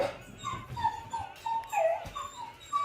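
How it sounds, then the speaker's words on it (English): A dog whimpers and whines to be let out indoors, a run of high, thin nasal cries rising and falling over nearly three seconds, fairly close and alone without talk. "the dog wants out"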